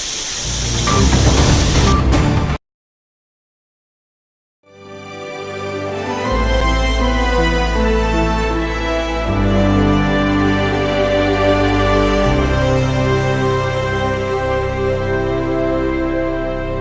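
A tropical storm of typhoon strength, with steady loud wind and rain roaring without a break. It stops briefly after a short opening burst and then builds back into a dense, unbroken wash.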